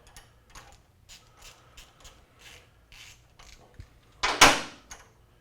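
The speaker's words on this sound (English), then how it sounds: "take the front of the shift rod off" A wrench works loose the front of a Harley Softail motorcycle's shift rod, giving a run of faint, evenly spaced metallic ratcheting clicks followed by a single louder, sharper clank near the end.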